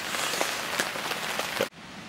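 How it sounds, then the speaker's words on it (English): Rain falls on a camping awning in Snowdonia, a dense close patter with occasional heavier drops that stops abruptly partway through, leaving a quieter hiss. "Hopefully the rain will stop as quickly as it started."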